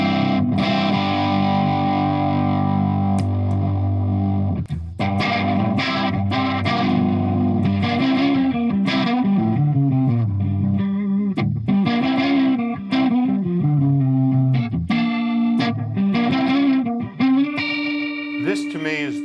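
Electric guitar played through a large, noisy Leslie-simulator effects pedal, giving a swirling, distorted tone as a continuous run of chords and single notes that fills the whole stretch, loud and close, with no talking.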